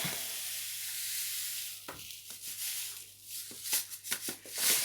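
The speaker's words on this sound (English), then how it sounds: "I'm just gonna chuck some sugar in" Sugar tipped from a container into margarine in a mixing bowl makes a soft, gritty hiss and rustle that comes in short, uneven bursts, close and fairly quiet, with a few light knocks mixed in.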